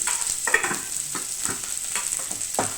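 Chana dal with onion and turmeric being stirred as it fries in a pan, a constant bright sizzle broken by regular scraping strokes of the spoon, close and with no voice.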